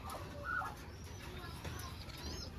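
Soft, low cooing of doves close by, a short murmuring call over a quiet, slightly noisy background.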